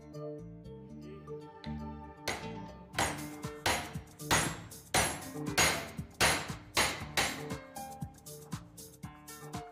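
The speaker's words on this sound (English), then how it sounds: "Install drive axle bearing in transmission cover." A drive axle bearing is hammered into a Yamaha Ray scooter transmission cover with a special tool, giving about ten loud, ringing metallic blows in a fairly steady rhythm, close up and following a few lighter taps.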